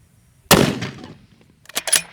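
A precision rifle fires at an outdoor range during PRS competition practice: one sharp, loud report with a decaying tail, then two quicker, fainter cracks or impacts further off. No one speaks.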